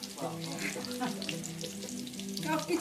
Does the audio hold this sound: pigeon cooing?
no